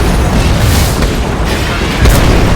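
Heavy booming explosions from incoming SAM missiles in the Shadow Strike combat game, a loud continuous rumbling barrage with a sharper blast near the end, close and dense, with no speech.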